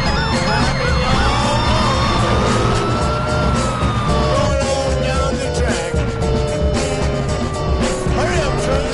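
Ambulance siren in the video game Driver San Francisco, a wailing, sweeping tone held steady and loud over game engine noise and music, with voices talking over it.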